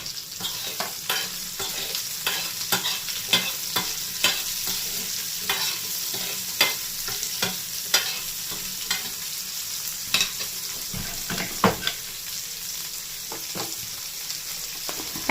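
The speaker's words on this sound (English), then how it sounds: "Now first add the mango pieces into the oil." Mango pieces sizzle in hot oil while a spoon stirs them through the pan, giving a constant frying crackle with repeated scraping strokes close by.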